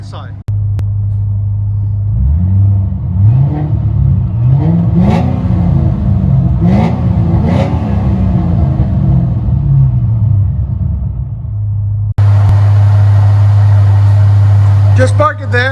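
Heard from inside the cabin, a 2006 Saleen S281 supercharged V8 with Flowmaster Super 10 dual exhaust idles with a steady low drone, then revs repeatedly in loud bursts before returning to idle, and someone speaks briefly.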